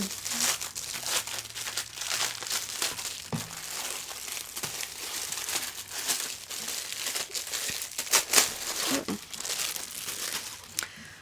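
Continuous crinkling and rustling of small plastic zipper pouches holding Disney mystery pins being handled and opened, with sharp crackles scattered throughout at close range.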